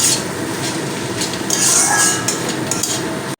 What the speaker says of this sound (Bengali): একটু হলুদ গুঁড়ো দিয়ে দিলাম দিয়ে আবার একটু নেড়ে দেবো